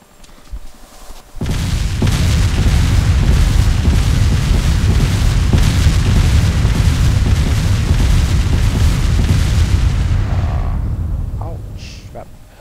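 Missile explosions in the video game ArmA 2 during an attack helicopter mission, a sudden loud boom followed by a sustained roaring rumble that fades out near the end.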